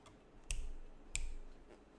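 Fortnite dance emote with a keyboard theme, two sharp clicky key taps about half a second apart, each with a short ringing tail, over a quiet background.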